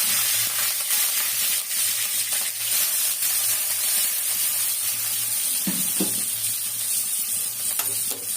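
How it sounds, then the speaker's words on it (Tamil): Fennel seeds spluttering and crackling in hot oil in a pan, a steady close sizzle with a few sharper pops, no one speaking. "இப்போ சோம்பு பொரிஞ்சிச்சுன்னா கருவேப்பிலை போட்டுக்கலாம்"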